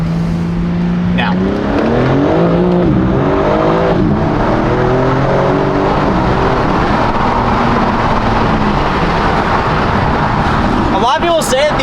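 A BMW M4 Competition accelerating at full throttle in first gear from a rolling start, loud engine note climbing steadily in pitch from inside the car, with a voice talking over it and a shift near the end.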